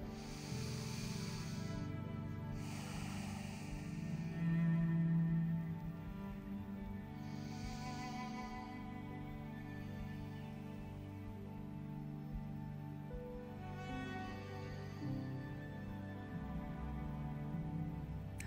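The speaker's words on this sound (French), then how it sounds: "on va prendre 3 grandes respirations en silence" Three slow, deep breaths are taken during a quiet floor-exercise session, each a soft, airy rush separated by long stretches of near-silence. Faint and close.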